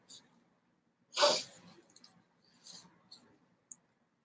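A single sharp human sneeze bursts out near the start, then soft breaths, sniffs and small clicks follow in a quiet room.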